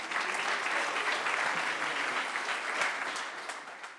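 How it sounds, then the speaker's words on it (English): An audience applauds the young dancers of Equilibrio Dinamico before their show, a dense burst of clapping that holds steady and tapers slightly at the end. "An applause for them."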